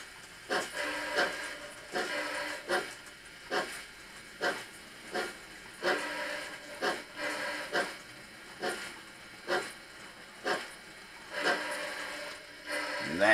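An N gauge model train backs corridor coaches into a siding, giving a faint, regular clicking and rattling of small wheels over track joints, repeating at a steady rhythm throughout.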